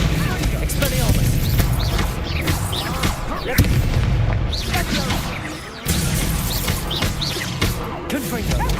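Confringo blasting spells in Hogwarts Legacy burst repeatedly in dense, loud booming explosions layered over continuous game noise and chirping birds, with a voice speaking over the action.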